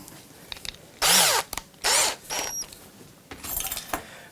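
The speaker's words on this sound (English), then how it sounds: "These Fermag drills are great." A Fermag drill bit bores into an electric guitar body in three loud, whining bursts of about half a second each, with brief clicks and handling noise between them and no talking.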